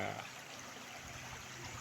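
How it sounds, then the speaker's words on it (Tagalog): The Osorio river in Trece Martires, Cavite, flowing as a faint, continuous stream of running water, a soft even rush with no breaks. "Kaya ang ilog ng Osorio 13 Cavite. Ayan po siya."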